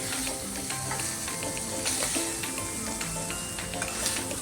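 Paneer pieces roast in butter in a hot pan, a continuous close sizzle and crackle running under steady tonal background sounds, with no one speaking.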